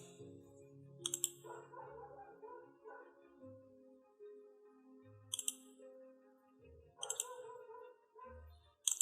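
Sharp, isolated mouse clicks on a WordPress eCommerce website setup page, four separate taps spaced a few seconds apart over a faint, soft tonal background.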